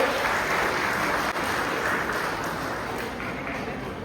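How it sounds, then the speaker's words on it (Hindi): Steady, continuous audience applause at a philatelic exhibition in Nainital, a dense wash of many hands clapping at fairly even loudness throughout, tapering only slightly toward the end. "इस क्षण में आपकी जोरदार तालियों की अपेक्षा है।"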